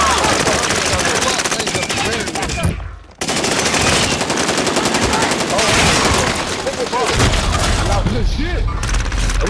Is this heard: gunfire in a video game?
yes